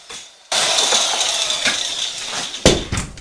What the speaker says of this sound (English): I've just been using a hand drill like so in a big tub.